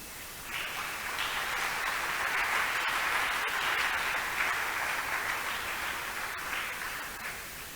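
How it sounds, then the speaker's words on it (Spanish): A church congregation claps hands during a service, a dense wash of applause that swells and holds steadily for several seconds, heard at a moderate distance and fairly soft. "Dele palmas al Señor."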